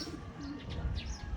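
Racing pigeons coo softly in a low, murmuring rhythm, with a few chirpy higher calls over it, fairly close but quiet, no voices.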